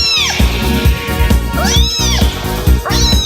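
Children playing cats in a Grade 4 school play meow repeatedly, voices imitating cats with rising and falling wails in a loose rhythm, loud and close with several cries overlapping.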